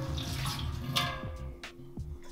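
Salt water poured into a beer fermenter during home brewing, a continuous splashing pour with a few brief clinks, close and moderately loud, with no talking.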